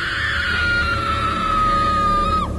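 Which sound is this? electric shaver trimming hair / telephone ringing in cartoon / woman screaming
woman screaming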